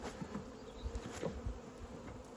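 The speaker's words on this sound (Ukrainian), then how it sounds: "Хай бджола працює в цьому вулику." Honey bees hum faintly at a hive in a low, continuous drone, with a few louder buzzes passing close by, quiet overall and no talking.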